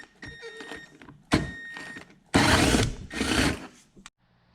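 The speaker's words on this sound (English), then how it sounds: "Alright, so the hole is drilled" Drilling a hole in a Honda CRX car body for a foglight install, a few short bursts of whirring and grinding, close and loud with pauses between.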